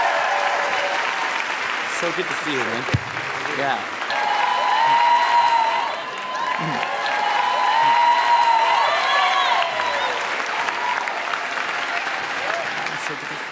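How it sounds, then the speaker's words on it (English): A live audience applauds steadily as a guest speaker is welcomed onstage, the clapping swelling and holding through the clip while brief friendly greetings are exchanged over it. "Give him a round of applause."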